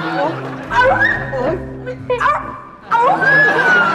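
A dog whimpers and yips in high, whiny cries, with short barks breaking in between.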